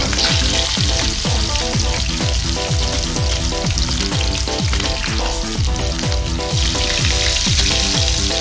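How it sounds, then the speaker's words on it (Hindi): Chicken steam roast fries loudly in hot oil in a pan, a dense continuous sizzle with frequent stirring scrapes, close and with no talking. "बस हल्का सा हम इसको फ्राई करेंगे, 2 से 3 मिनट लगेंगे।"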